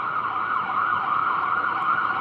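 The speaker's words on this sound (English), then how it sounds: "Hear the sirens?" An emergency vehicle siren wails steadily and continuously at moderate loudness, with no voices and no break in the tone.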